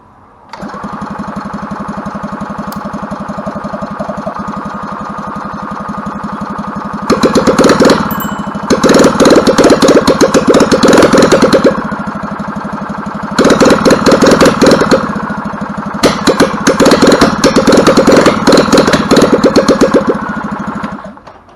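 A rebuilt EZGO golf cart engine putters at a low steady idle for several seconds, then bursts into louder, rough running in repeated revving surges with short pauses between them, close by.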